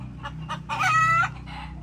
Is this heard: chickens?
yes